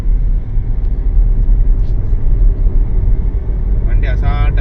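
A Mahindra Thar Roxx engine pulling steadily in fifth gear, a loud continuous low rumble heard from inside the cabin, with a brief voice near the end.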